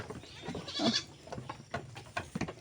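A young goat kid bleats several times at close range on a farm, its cries rising and falling against quiet barnyard background.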